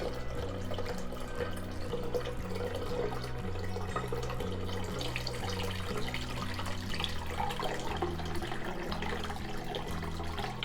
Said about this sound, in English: I'm going to add enough water to cover the eggs by an inch or two